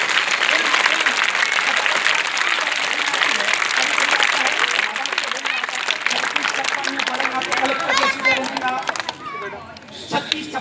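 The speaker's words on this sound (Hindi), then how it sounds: "ताली" Applause from an audience at an Islamic speech event, loud and steady for most of the clip, thinning toward the end as children's voices and chatter rise through it.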